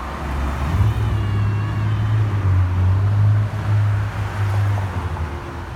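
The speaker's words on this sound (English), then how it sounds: "vehicles are moving swiftly along Rowena" Evening rush-hour traffic on Rowena, a steady low rumble of passing cars with one stronger engine swelling and fading as it goes by, moderately close with no voices.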